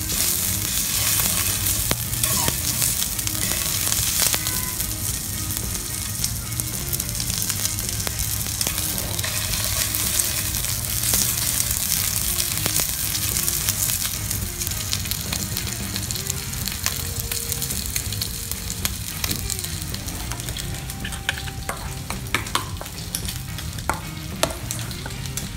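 A5 Miyazaki Japanese Wagyu ribeye sizzles and fries steadily in a pot, a loud continuous crackle with stirring noises throughout and no voices.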